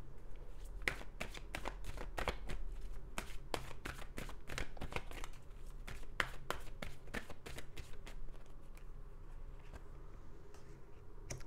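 Tarot cards shuffled by hand, a quick continuous run of crisp riffling flicks and soft taps that carries on steadily throughout with no talking.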